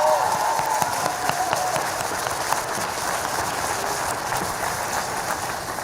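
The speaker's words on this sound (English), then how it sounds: "let's another round of applause" Audience applause at a college commencement ceremony: sustained, dense clapping from a crowd fills the whole stretch at steady loudness, with a faint tonal hum in the background.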